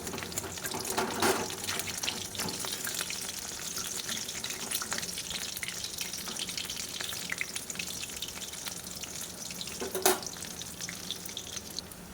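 Besan fritters fry in a pan with a continuous hissing sizzle throughout, with a few brief louder crackles and a splash near the end.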